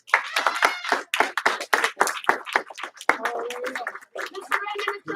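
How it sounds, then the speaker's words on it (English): Two rounds of classroom clapping from a group of students, sharp uneven hand claps in quick bursts with a few voices mixed in, close and fairly loud. "give him 1 clap, 2 claps"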